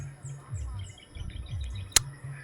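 Birds chirp and tweet in short repeated calls from a tree against a low background hum, with one sharp click near the end.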